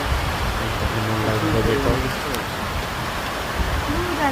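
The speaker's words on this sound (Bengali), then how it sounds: "দুপুর নাগাদে প্রচন্ড বৃষ্টি বাতাস, অত্যন্ত মনোরম একটা পরিবেশ, প্রচন্ড বৃষ্টি হচ্ছে।" Heavy rain driven by wind pours down in a continuous broad wash of noise, with a person talking over the steady downpour.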